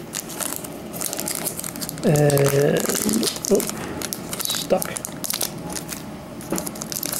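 Plastic wrapper of a baseball card pack crinkles and crackles in irregular bursts close by, with a brief spoken word and a short voiced sound partway through.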